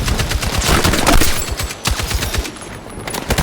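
M60 machine gun in a multiplayer shooter video game firing in rapid sustained bursts, loud and dense with brief pauses, blending into a busy game soundscape.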